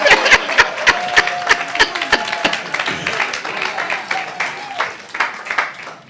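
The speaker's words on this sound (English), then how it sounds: "just clap for them" Audience clapping at a church business teaching session, scattered sharp claps in uneven bursts alongside crowd murmur, a few chuckles and some talk, moderately loud and fairly close.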